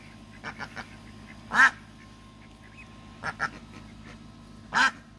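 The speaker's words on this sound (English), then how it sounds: "Who is quacking?" A duckling gives a few short, nasal quacks, spaced apart, with fainter soft peeps in between against a quiet background.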